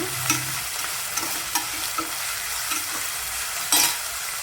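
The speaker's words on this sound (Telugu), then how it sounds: "కరివేపాకు ఆనియన్ వేసి వేయించుకోవాలి ఇంకా గ్రీన్ చిల్లీ కూడా వేశారు" Curry leaves, chopped onion and green chilli frying in a pan, giving a continuous close sizzle with light intermittent stirring clicks and scrapes and no voices.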